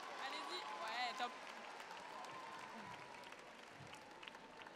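An arena audience applauds the Miss Alsace contestants, a continuous faint wash of clapping with whoops and cheers near the start, under a steady background.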